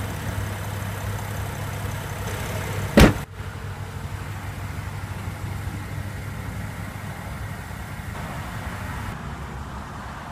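A BMW X6 xDrive35i runs with a steady, even engine and exhaust drone. A single sharp burst near the start cuts briefly through the hum, which then settles into a constant idle.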